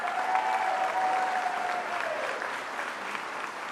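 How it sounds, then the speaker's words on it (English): Audience applause for a speaker at a vice-presidential visit to the southern border, steady clapping from a sizable crowd that holds even for several seconds and tapers only slightly toward the end. "I applaud Teresa, and I know we all do"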